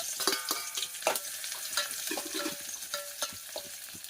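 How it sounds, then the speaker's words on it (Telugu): Onions tossed into hot oil for a village-style country chicken curry, frying with a steady sizzle and repeated stirring scrapes in a pan, close and fairly quiet, with no talk. "ఆయిల్ వేడెక్కిన తర్వాత ఆనియన్స్ వేసుకుంటున్నాను"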